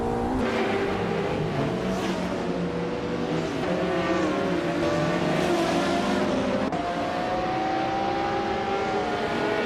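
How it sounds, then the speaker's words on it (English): Race cars in a video game, several engines droning and revving together with rising and falling pitch, a constant loud roar throughout with a slight tire squeal. "The race for fourth is heating up with Amy and Theo Show trading paint"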